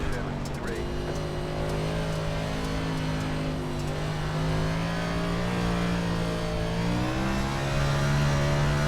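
A heavy 3,500-pound dirt race car engine drones continuously at Bristol in the iRacing sim, its pitch rising and falling with throttle, loud and close throughout.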